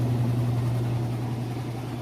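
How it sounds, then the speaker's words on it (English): A Whirlpool washing machine runs its final spin cycle, giving off a steady, smooth low hum with a constant drone and faint mechanical whir throughout, loud and close with no talking. "Alright, and we're back on the final spin."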